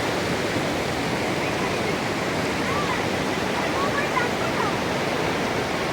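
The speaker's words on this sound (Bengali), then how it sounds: "দেখুন কেমনভাবে জলের বেগগুলো হচ্ছে এগুলো অসাধারণ সুন্দর লাগছে" A rushing hill river in the Dooars highlands roars as a loud, steady, unbroken wash of turbulent water, close and filling the whole soundscape with no pauses.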